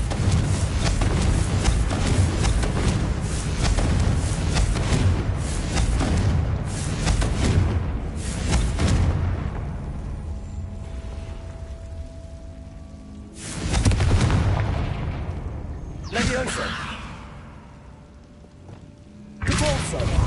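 Confringo fire-spell blasts in Hogwarts Legacy, a run of heavy booming explosions over the first half, then a gap and a few more isolated thuds, with a voice talking over parts of it.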